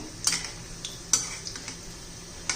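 Fresh pea bhaji frying in oil are turned with a metal utensil, giving a few sharp clinks and scrapes against the pan over a soft background sizzle, with no voices.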